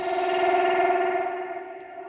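A turkey-sample instrument in Ableton Live droning through phaser and reverb processing, a thick, fluttering tone that holds steady and then slowly fades and thins out toward the end.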